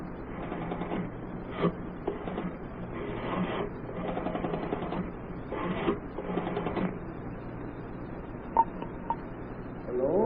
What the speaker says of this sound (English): I'd like to make a phone call first.